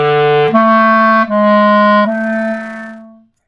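A clarinet plays a short phrase of four sustained notes, clear and close, the last note fading out.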